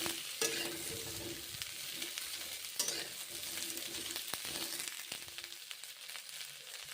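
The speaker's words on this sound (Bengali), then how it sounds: "পেঁয়াজ ফুলকপি এখন ভেজে নিচ্ছি" Onion and cauliflower frying in a pan, with steady close sizzling and occasional stirring scrapes and clatters throughout, the sizzle dropping off near the end.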